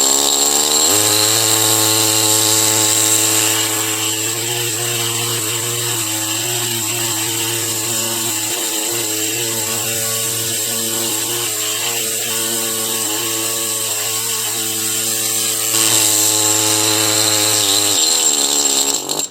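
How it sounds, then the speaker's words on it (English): A chisel-tip power tool chips rock away from a fossil crab concretion, a loud, steady, close mechanical buzz running almost continuously with rougher grinding texture in the middle. "So I'm going to take the chisel bit here, chisel tip thing, and just start taking rock off."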